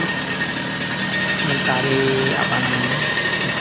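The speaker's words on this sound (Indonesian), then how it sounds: "kita kencangkan bunyinya itu supaya bunyi Vespa naik" Vespa scooter engine running close by during carburetor adjustment, a steady idling drone that rises slightly as it is revved, with someone talking over it throughout.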